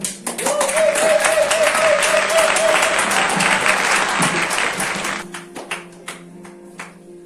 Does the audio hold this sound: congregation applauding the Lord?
yes